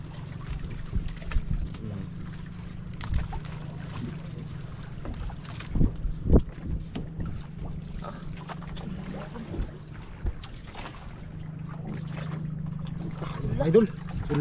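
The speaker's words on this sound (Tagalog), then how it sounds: "parating pa yung isang bangka" A fishing boat's engine hums steadily at a moderate distance, a low continuous drone under wind noise, while people talk nearby.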